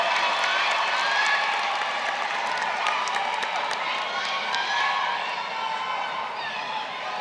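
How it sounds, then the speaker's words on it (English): Audience applause fills a high school graduation ceremony, steady dense clapping with scattered cheers and whoops from a large crowd, sustained and fairly loud throughout before easing slightly at the end. "Students, please give these special people a big round of applause for all of the love they have shown"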